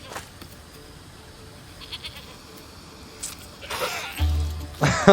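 A goat bleats in the video game Assassin's Creed Odyssey, one short clear bleat near the end after quiet ambient game sound and a couple of bumps.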